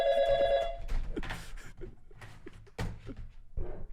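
A telephone rings close by with a bright electronic trill at the start, then fades under loud breathing, rustling and bumps, and a short ring returns at the end.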